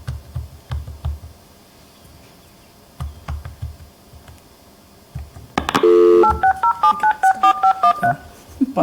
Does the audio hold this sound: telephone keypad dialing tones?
yes